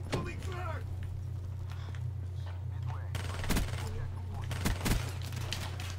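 Video-game gunfire from an MR6 in a free-for-all match: a few short, sharp bursts of shots over a steady low hum, mid-distance, with a quiet voice heard early on.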